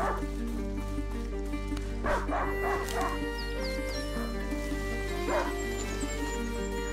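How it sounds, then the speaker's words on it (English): A hunting dog barks several times in the medieval setting of the video game A Plague Tale: Innocence, sharp yips and barks over a low sustained musical drone, with faint rain-like patter behind. "A hunting dog. In the medieval times."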